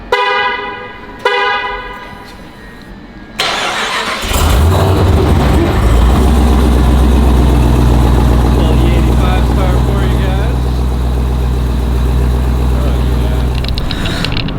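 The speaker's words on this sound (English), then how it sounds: "the 2018 Jeep Trackhawk, 840 wheel horsepower. Let's start her up" A 2018 Jeep Trackhawk with 840 wheel horsepower chimes and clicks before its engine cranks and fires, settling into a loud, deep, steady rumble close by, with a person talking early on.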